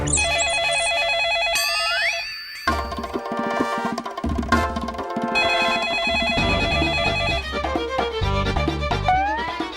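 A telephone rings with a loud, melodic electronic ringtone that plays a shifting tune for several seconds, with brief gaps between phrases.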